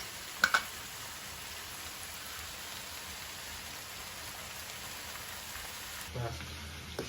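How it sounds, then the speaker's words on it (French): Onions and lardons sizzling with beef in a pot for boeuf bourguignon, a steady soft hiss of frying under a few faint clicks, with a brief clatter near the end. "les oignons vont revenir avec les lardons"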